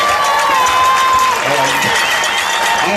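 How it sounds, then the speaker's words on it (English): A stadium crowd applauds and cheers for the graduating band seniors at a high school football halftime, a steady broad wash of clapping with murmured voices mixed in. "Let's give them one more big round of applause."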